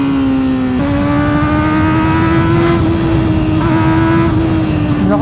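A Kawasaki ZX4RR motorcycle with an ECU reflash and new SC exhaust revs hard on a dyno, a loud, steady high-pitched engine whine that climbs in pitch and holds near the top, close and alone.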